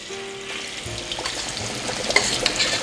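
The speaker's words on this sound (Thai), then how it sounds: "ทีนี้เราก็มาทอดได้เลยครับ" Battered chicken fries skin-side down in hot oil over medium heat, with a building crackle and spitting sizzle, close and steady, with a few soft clatters from the pan.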